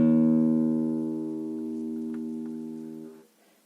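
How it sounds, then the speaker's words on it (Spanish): The open sixth string of a guitar is plucked once, ringing as a single clear low note that slowly fades over about three seconds before being cut off. "La sexta"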